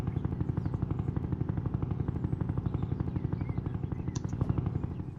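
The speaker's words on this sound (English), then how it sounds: "I'm just gonna move my helicopter backwards" Helicopter in the Roblox Jailbreak video game, a rapid, steady rotor thud with a low engine drone, continuous and fairly close, with no talk.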